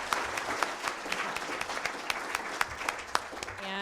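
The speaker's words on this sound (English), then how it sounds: "let's give another big applause for these crazy people" Audience applause for a panel discussion on living with LHON, steady dense clapping with sharper individual claps standing out, moderately distant and sustained throughout.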